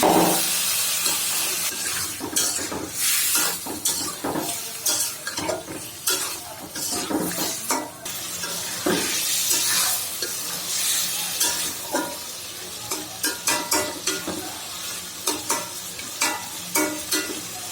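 Potato and eggplant pieces fry in a pan of oil for an egg curry, with a steady close sizzle broken by frequent scraping stirs of a spatula against the pan, continuing throughout with no talking.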